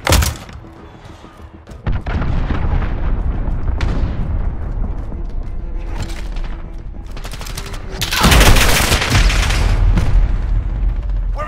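Cruise missile strikes land in Call of Duty: Modern Warfare multiplayer, with loud booming blasts and rolling rumble, a heavy impact near the start and another big surge of explosions late on, while gunfire crackles in between.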